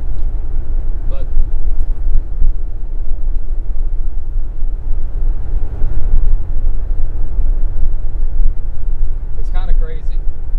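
Low, constant rumble of a classic 1977 Chevrolet Silverado truck's engine and road noise while driving, steady and close, with someone talking over it throughout.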